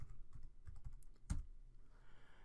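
Quick clattering keystrokes on a computer keyboard, a burst of taps then a sharper key press, close and fairly quiet, with no talking.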